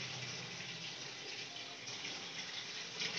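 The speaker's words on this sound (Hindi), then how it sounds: "बस ये पानी चला रखा है" Water running steadily from a tap, a quiet, even rush of flowing water lasting throughout with no one speaking.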